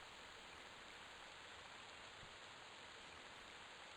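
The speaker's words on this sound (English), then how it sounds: "I really, really wish I could turn off these rain sounds" Steady rain ambience in the video game Project 1999 (EverQuest), a faint, even hiss of falling rain running unbroken throughout with no speech.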